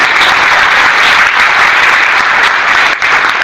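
An audience at a teachers' workshop claps in sustained, dense applause, loud and even throughout, with a brief dip near the end as it continues.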